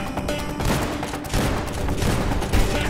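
Shotgun blasts in the Roblox video game fire in a rapid, dense volley at close range, loud sharp reports overlapping without pause.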